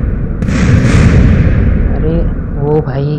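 A large explosion in GTA San Andreas booms loudly in a sustained, rumbling blast that lingers and fades, with a voice speaking over its tail.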